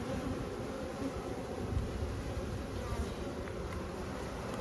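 Honeybees at an open hive, its frames light with empty cleared cells, fill the air with a continuous dense buzz, close and steady, with faint wind noise and no speech.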